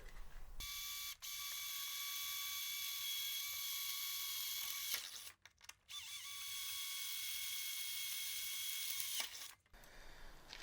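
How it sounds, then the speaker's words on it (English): A power drill whines steadily at high speed, drilling holes in the chain case of a 2023 Ski-Doo Expedition SE 900 ACE snowmobile, stopping briefly a few times before starting up again, close and continuous. "We can drill on the chain case side now."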